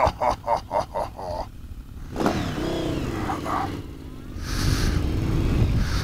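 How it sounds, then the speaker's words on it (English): A Yamaha VMAX 1700 motorcycle opens with several sharp rhythmic revs, then pulls away with a rising, shifting engine drone that fades and swells again as it rides, fairly close and alone without talk. "So we're gonna take a little ride on this Vmax 1700."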